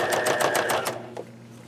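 A sewing machine stitches a zipper onto a fabric bag in a short run of rapid, evenly spaced needle strokes that stops about a second in, leaving a low steady motor hum.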